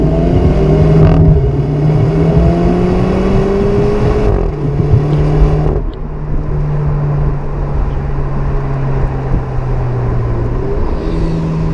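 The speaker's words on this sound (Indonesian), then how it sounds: "setiap perpindahan gigi seperti ada suara blub gitu ya" A MINI Cooper S Countryman accelerates hard through the gears, with its engine note climbing and then dropping at each shift. A short blub sounds at every gear change. The sound is loud and close from inside the car, with no talking.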